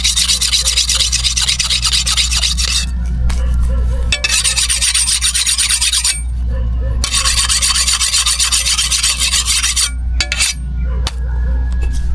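A metal file rasps steadily across a blade as it is sharpened for a handle-making job, loud and close in long repeated bursts of stroking with brief pauses between them.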